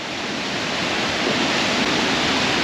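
A heavily pouring waterfall roars close by in a dense, continuous wash of white noise that stays loud and steady throughout, with no voices over it.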